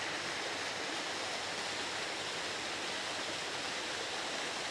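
Steady broadband rush of a large waterfall tumbling down a hillside in a spring public garden, constant and unbroken with no voices.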